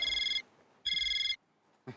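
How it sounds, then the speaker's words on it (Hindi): Mobile phone ringtone, two loud bright electronic ringing bursts with a pause between them, followed by the start of a third, close and clear. "तेरा फोन बज रहा है, पता है?"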